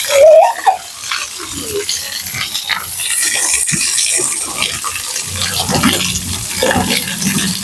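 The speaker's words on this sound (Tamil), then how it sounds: "தண்ணி பாருங்க சூப்பரா ஊத்திட்டு இருக்கு." Water pours steadily into an outdoor swimming pool in Puliyampatti, a continuous splashing wash that runs through the whole stretch, with children's shouts and brief voices mixed in.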